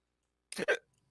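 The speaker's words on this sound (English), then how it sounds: "No, just hiccups." A single hiccup, short and quiet, a sharp two-part catch of breath in an otherwise silent moment with no talking.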